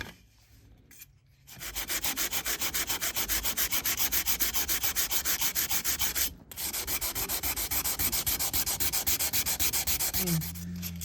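Stainless steel trim being hand sanded, a rapid rhythmic back-and-forth scraping, close and steady, in two long runs split by a short pause, with no talking.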